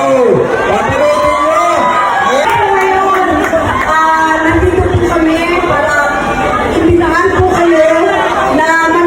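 Fans at an SM City Pampanga mall show scream and cheer as the movie's two stars come out to go up on stage, a loud, continuous crowd roar with high shrieks rising above it.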